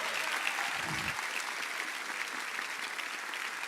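A congregation at a church service applauding loudly, a dense, continuous wash of many hands clapping that holds steady throughout, with a brief low thump near the start.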